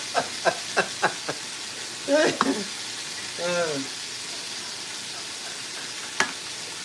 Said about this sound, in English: So now we've got our meat searing